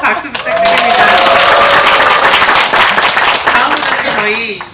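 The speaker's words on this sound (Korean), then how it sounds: "오늘 큰 용기 내셨는데 다시 한번 박수 부탁드립니다." A warm round of audience applause at a community welfare project's results-sharing event, loud, close and sustained for several seconds, with a speaker's voice running over the clapping.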